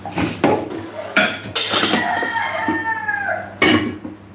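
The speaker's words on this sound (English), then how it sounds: "Oh man, that rooster." A rooster crows nearby, one drawn-out call mixed with sharp clatters of dishes being handled, outdoors in a kitchen setting.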